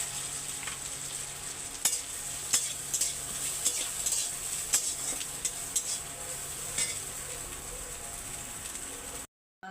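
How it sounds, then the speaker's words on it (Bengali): Small chuno fish fry in hot oil in a wok, a continuous bright sizzle punctuated by repeated sharp clinks and scrapes of a spatula stirring against the metal. "মাছটা আমি ভেজে তুলে নিচ্ছি"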